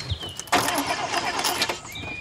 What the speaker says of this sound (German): Setz dich mal rein und starte.